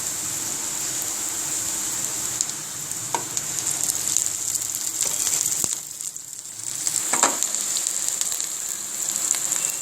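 Sliced onions with green chillies fry in a pan for karela sabzi, a steady loud hiss and crackle with occasional stirring scrapes and a brief quieter dip midway.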